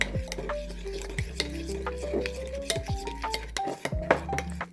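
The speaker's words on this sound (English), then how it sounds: "2 teaspoons of garlic. 1 teaspoon of ginger, 2 teaspoons of green seasoning. Mix everything up." Garlic, ginger and green seasoning being mixed in a bowl for a squash and lamb curry, with repeated spoon scrapes and clinks against the dish in an irregular close rhythm.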